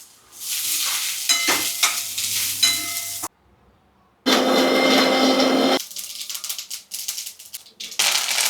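Masala roasting in oil in a pan for a chicken and mutton dish, loud bursts of sizzling with stirring clatter, broken by a brief near-silent pause before a strong hissing surge and more intermittent frying.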